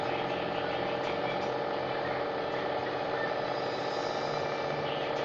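A homemade 2000-watt air flux generator motor runs with a dense, steady mechanical whir and buzz, close and constant, with no break in its drone.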